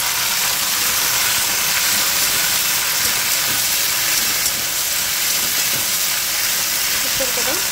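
Okra and curry leaves go into hot oil already crackling with mustard seeds, giving a loud, steady hiss and sizzle that runs unbroken throughout.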